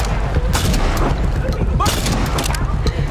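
Shotgun blasts in the video game Far Cry 6, loud booming reports in quick succession amid a busy, noisy in-game firefight.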